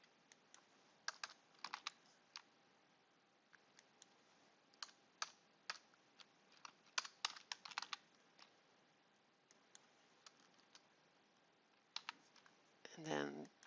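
Bursts of computer keyboard typing, brisk clusters of clicky keystrokes scattered across the stretch with short pauses between runs, fairly close and moderately quiet, while someone enters edits in an Oracle APEX application.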